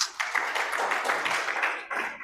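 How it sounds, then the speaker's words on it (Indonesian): A church congregation at GBI BSB Sorong claps together in a steady, dense burst of applause that fills the hall for a couple of seconds, briefly dipping and then swelling again near the end. "Tepuk tangan bagi Tuhan kita."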